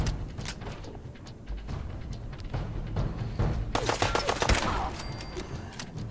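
Rapid strings of gunfire rattle in Fallout 4, with sharp repeated shots growing denser in the second half, loud and close over a busy combat background.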